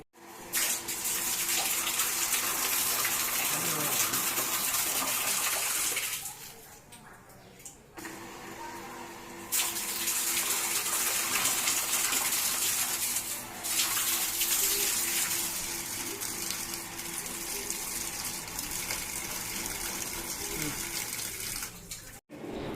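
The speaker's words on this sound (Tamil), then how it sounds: "தண்ணி பொறுமையாக தான் வருது, ஏன்னா தண்ணி உள்ள கிணத்துல இல்லை." Water from a 1 HP motor pump drawing from a low well runs steadily and loudly through a pipe, with a brief dip near the middle before the broadband rush resumes; a voice is heard faintly under it.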